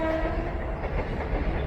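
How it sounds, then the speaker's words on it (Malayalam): A long-distance express train with AC and sleeper coaches rolls past on the adjacent track, loud and close, a steady roar of wheels and coaches with a tonal horn note at the start. "അപ്പുറത്ത് കൂടെ ഒരു ട്രെയിൻ വന്നൊരു"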